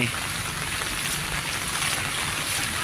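Heavy rain with strong wind pours down at a street stall selling meatballs, a dense, continuous hiss of rain striking surfaces that stays steady and loud throughout, with no voices.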